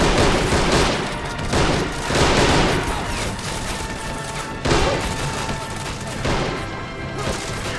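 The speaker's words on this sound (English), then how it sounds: "A lot of riflemen opening fire, covering the hill." Dense rolling rifle fire from a firing line of riflemen in the video game Army Men of War crackles nonstop, loud and overlapping, with heavier swells of shots across the stretch.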